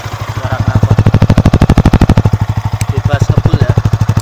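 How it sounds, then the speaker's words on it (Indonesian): A Yamaha R15 motorcycle's exhaust idles up close with a rapid, steady throbbing pulse that stays strong and even for the full few seconds, with the mic held near the engine. "Suara knalpot"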